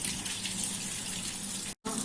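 A piece of ginger is rinsed under running tap water, a steady close splashing stream into a sink that cuts off briefly near the end before resuming.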